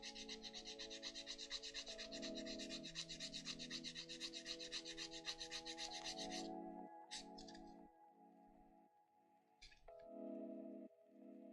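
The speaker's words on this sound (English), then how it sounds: "Do a little bit of sanding on this spot." Hand-sanding a plastic model kit part, a close, quiet rhythmic rasping rub that runs continuously, then breaks into shorter strokes with pauses.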